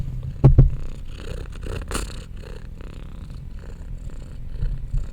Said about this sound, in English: She's a purring machine.